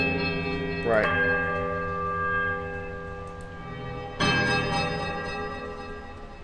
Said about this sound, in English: There's a quiet melodic chime from all three bells before their discordant voices meet in one powerful rising rush of sound.